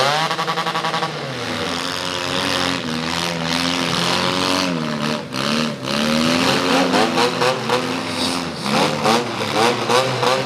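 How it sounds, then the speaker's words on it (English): A demolition derby car's engine revs hard in a series of rising and falling surges, loud and close, while an announcer talks over a public address system. "Blake Mallard revs his engine up."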